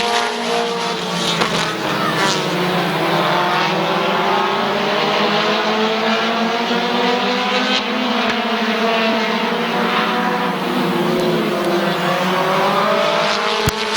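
Race cars roar around Midvale Speedway on the final lap, engines loud and sustained with rising and falling pitch as the pack passes, a dense continuous wall of motor noise throughout.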